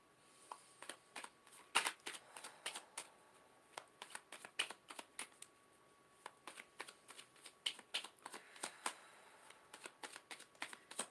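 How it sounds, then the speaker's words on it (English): Tarot cards are shuffled by hand, giving quiet, irregular bursts of crisp riffling and slapping snaps that come in uneven clusters over a near-silent background. "I am shuffling right here."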